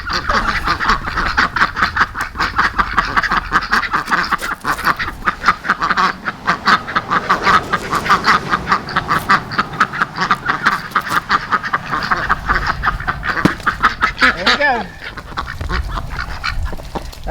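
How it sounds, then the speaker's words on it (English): A flock of ducks quacks continuously nearby in a garden, a dense overlapping chorus of rapid, raspy calls that stays loud and busy for the whole stretch. "It's our friendly neighborhood duck brigade."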